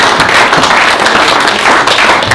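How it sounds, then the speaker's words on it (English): An audience at a school youth speaking event applauds, a dense, steady wash of clapping hands held at full strength throughout. "So I think it's a round of applause for the school."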